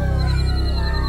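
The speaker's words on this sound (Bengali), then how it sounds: "তার সঙ্গে শেয়ালের ডাক যোগ হল।" Jackals howling at night, with drawn-out, wavering, overlapping cries that hold steady throughout the short stretch, heard alone with no talking.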